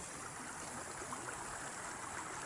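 Floodwater rushing past in a steady, broadband wash, continuous and fairly faint, with no voices over it.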